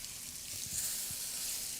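Eggplant sizzles steadily in a hot pan on the stove, a continuous bright hiss punctuated by a few soft low bumps as pieces shift or are turned.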